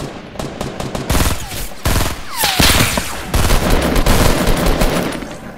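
Rapid automatic gunfire in a Fortnite match, dense bursts of close, loud shots with brief gaps, continuing almost the whole time.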